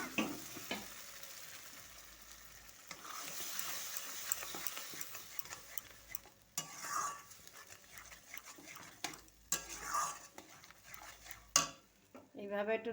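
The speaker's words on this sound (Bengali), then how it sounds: "এইভাবে একটু নাড়াচাড়া করব।" Ridge gourd paste being stirred in hot oil in a pan, soft scraping strokes over a faint sizzle with occasional clinks of the utensil against the pan; no talking.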